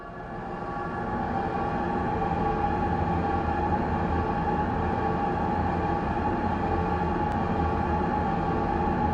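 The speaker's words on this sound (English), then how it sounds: "This is just the spookiest pit fire rumbling coupled with the spooky pit screams" Fortnite spookiest pit fire rumbling with spooky pit screams, a dense, continuous roaring drone with a wailing layer above, loud and unbroken, rising slightly at the start, no talk.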